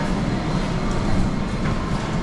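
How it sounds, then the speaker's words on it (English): Hamburg S-Bahn local city train running with a steady low rumble and broadband rail noise throughout, close and continuous, with no talking. "they're going to continue on the S, which is the local train"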